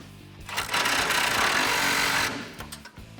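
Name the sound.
tightening sway bar end link nut with extension and 18mm socket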